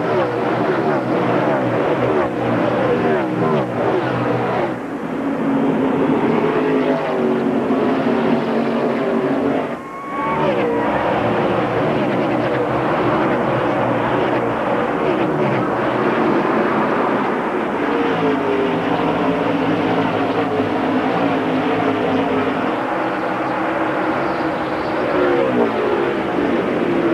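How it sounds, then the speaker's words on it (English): NASCAR stock cars at full power on a restart during the 2001 Pontiac Excitement 400, a loud continuous engine roar that stays dense and steady throughout with a brief dip near the middle. "You want to hear some pure American NASCAR horsepower? Let's crank it up for this restart."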